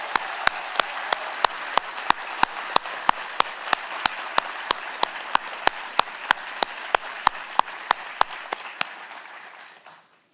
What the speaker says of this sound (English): can we have a big round of applause for our presenters?